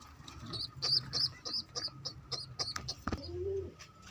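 Pigeons make a run of soft, rhythmic chirps and coos close by, with a brief louder thump near the end.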